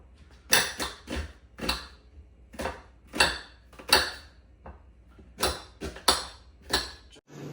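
A knife chops onion on a cutting board in a home kitchen, with about a dozen sharp, close knocks in an uneven rhythm, each followed by short pauses, with no talk over them.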